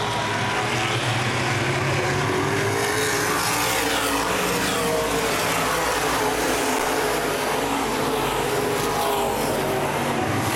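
Open wheel modified race cars battle for the lead at Baer Field Speedway, a loud, continuous roar of several engines running together close by, with no voices.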